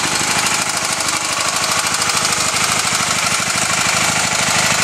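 1982 Honda CB450SC Nighthawk motorcycle engine running steadily nearby, a loud, continuous rapid putter with an even rhythmic throb and no pauses or voices.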